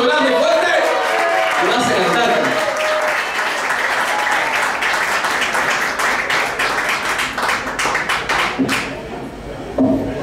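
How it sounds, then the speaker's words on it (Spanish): Concert audience applauding in Tucumán, a loud, dense wash of clapping mixed with cheering voices that rolls on for about ten seconds before thinning into scattered claps near the end. "Y voy a pedir otro gran aplauso"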